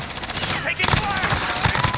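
Automatic gunfire in a video game, a dense rattling burst of rapid shots that carries on steadily after a brief whoosh, loud and close, with some voice chatter mixed in.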